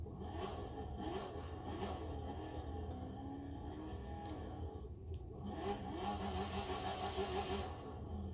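A 2018 NASCAR Chevrolet Camaro, number 8, rumbles and revs in The Crew 2 racing game on a wet, foggy road, its engine note rising and falling steadily and at moderate volume.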